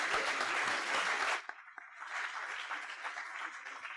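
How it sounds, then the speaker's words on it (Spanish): Audience applause at a panel event in the Biblioteca Nacional, loud sustained clapping that cuts off sharply, then gives way to a softer murmur of room noise and scattered claps. "también a mí me aplauden en los actos"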